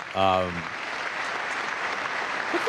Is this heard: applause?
yes